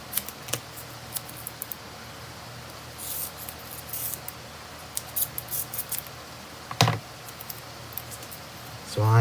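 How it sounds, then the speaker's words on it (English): Scissors snipping through card as part of making a festive robin tag, a series of quiet, irregular crisp cuts and small handling rustles at close range, with a couple of sharper snips and no talk. "Scissors."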